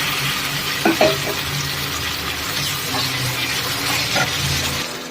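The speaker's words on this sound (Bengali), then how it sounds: "তেলটা গরম হয়ে গেছে এর মধ্যে দিয়ে দিলাম পেঁয়াজ আর টমেটো" Onion, tomato and ginger garlic paste frying in hot oil in a pan for a fish curry, a continuous close sizzle with a few brief knocks and scrapes of a spoon, and no talking.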